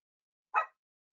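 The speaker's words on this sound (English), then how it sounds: "And I think I hear Sandra's dog" One short, faint dog bark, a quick yip-like woof, comes through a home microphone during an online neighborhood meeting and is otherwise surrounded by silence.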